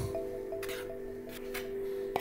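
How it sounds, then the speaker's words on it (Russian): Spoon mixing belyashi yeast dough in a bowl while flour is added, soft wet squishing and light scraping strokes, close and quiet. "Замешивать начинаем сначала ложкой, как бы подсыпая муки"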